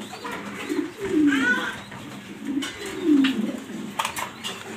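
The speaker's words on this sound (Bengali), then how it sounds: "আনকমন একটা কবুতর, মাস্টার পেয়ার" A male pigeon from an uncommon master pair coos twice in soft, low, rolling phrases, fairly close against a light background hiss.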